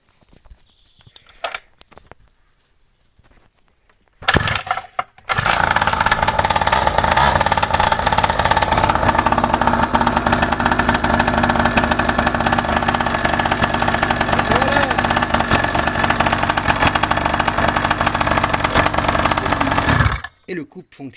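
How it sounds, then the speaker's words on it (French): A motorcycle engine fired up after an ignition coil was refitted. A few faint clicks come first, then it catches and settles into a loud, steady idle with a fast even pulse that runs for about fifteen seconds before cutting off. "Maintenant, on va tester de démarrer pour voir si la bobine est bien montée"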